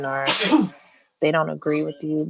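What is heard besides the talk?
sneeze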